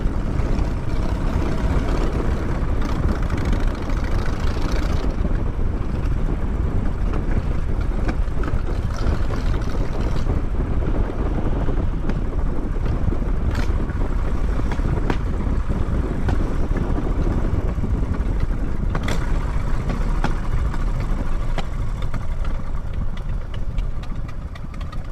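A high-torque vehicle engine revs on the highway under throttle, a continuous loud roar blended with rushing wind noise that holds steady throughout.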